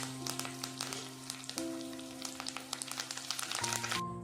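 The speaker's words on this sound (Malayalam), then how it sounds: "ഇപ്പോൾ നമ്മുടെ വെളുത്തുള്ളിയും ഇഞ്ചിയൊക്കെ എണ്ണയിൽ കിടന്ന് നന്നായി വഴറ്റി വന്നിട്ടുണ്ട്." Garlic and ginger sautéing in hot oil in a pan: a steady close sizzle with crackling pops scattered throughout, alone with no talk, over a faint steady hum.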